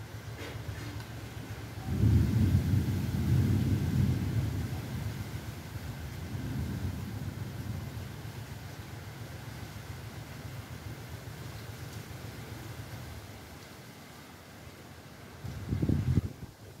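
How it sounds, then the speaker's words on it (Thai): Storm wind roars around a house on the bank of the Mekong River at Ban Pak La, Khong Chiam, with deep rumbling swells of thunder or gusts rising and fading, a louder surge near the end. "ความน่ากลัวของพายุค่ะ"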